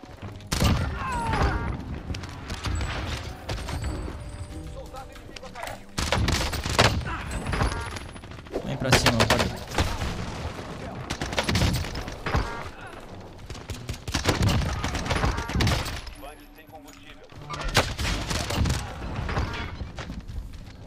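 Repeated bursts of C58 assault rifle fire in the Warzone battle royale game, loud rapid volleys separated by short pauses across the whole stretch, with in-game explosions and thuds mixed in.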